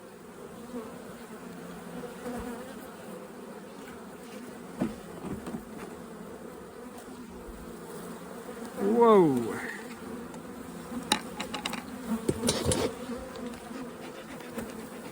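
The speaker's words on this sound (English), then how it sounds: "You're supposed to be quiet Canadian bees." Many honeybees buzz in a steady, dense drone up close at an open hive in Canada, with a brief louder whoosh and a person's short exclamation partway through.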